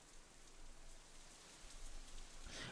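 Steady rain patters softly and continuously in the visual novel game Katawa Shoujo, a faint, even hiss of drops on surfaces with no voices.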